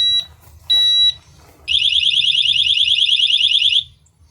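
Two short electronic beeps, then a loud, rapidly pulsing high-pitched alarm from a XENA XX10 Bluetooth disc lock wails for about two seconds before cutting off abruptly.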